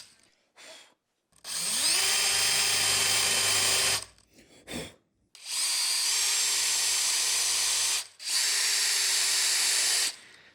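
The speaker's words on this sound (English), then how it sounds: "Take your bench hook and countersink 4 holes in it." A power drill countersinks holes in a wooden bench hook, whirring loudly up close in three long bursts with brief stops and short blips between them, no speech.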